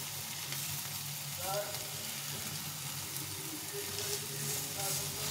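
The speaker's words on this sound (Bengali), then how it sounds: "এরকম করে উল্টে পাল্টে সুন্দর করে সেঁকে সেঁকে ভেজে নিতে হবে।" A roti fries in a pan, turned and pressed as it cooks, giving a steady close sizzle with soft scraping and shuffling over faint background hum.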